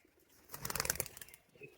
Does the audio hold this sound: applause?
no